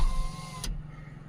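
A Renault Kwid Climber's electric window motor whirs steadily for about half a second, then stops with a brief thunk, quiet and close inside the car.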